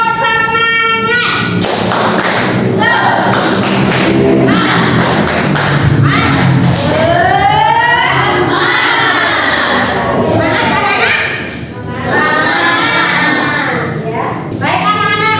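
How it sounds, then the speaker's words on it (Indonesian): Schoolchildren in a classroom perform a lively rhythmic clapping chant, loud and close, with bursts of patterned claps mixed with their shouted voices and a teacher's voice throughout. "Tepuk semangat."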